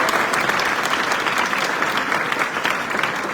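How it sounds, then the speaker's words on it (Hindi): A classroom of students applauds a fellow student, a dense, steady burst of clapping from many hands that continues evenly throughout, close and loud. "ताली बजाओ इसके लिए"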